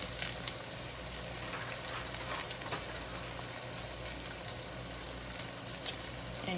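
Cabbage greens frying in bacon fat with onion give a steady, even sizzle throughout, with small crackles and pops scattered across the pan and no voices.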